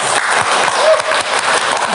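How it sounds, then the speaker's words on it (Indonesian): Audience applause at a campus talk show on communication studies, a dense steady wash of clapping sustained loudly throughout with faint voices mixed in. "Tepuk tangan dulu buat Ilkom"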